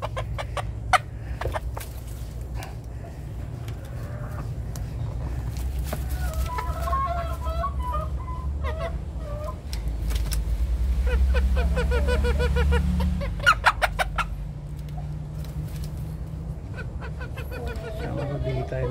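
Cornish bantam chickens in Buguey, Cagayan cluck and squawk in scattered bursts close by over a low farmyard background, with a person talking intermittently.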